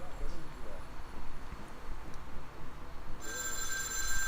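A telephone rings inside a survival game set in a virus-driven apocalypse, a faint steady electronic ring that grows a bit brighter near the end, heard over low background noise.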